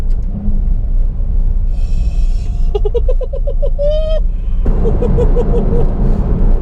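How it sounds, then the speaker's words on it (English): A loud Ferrari F12 TDF engine nearby revs and blips through quick downshifts, each shift a sharp rise and fall in pitch over a steady road rumble. "Did you hear how quickly that downshifted?"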